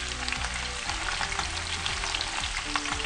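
Pork ribs and cabbage sizzle in a thick-bottomed pan with a loud, dense crackle of frying that holds steadily throughout, close up and with no talking.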